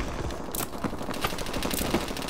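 Rapid gunfire in Call of Duty: Advanced Warfare multiplayer, close bursts of shots rattling in quick succession over game background noise.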